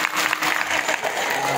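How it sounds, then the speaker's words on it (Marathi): An audience at a devotional kirtan discourse breaks into sustained, dense clapping, a close and steady burst of applause with no voices standing out. "टाळी वाजत ना राजा."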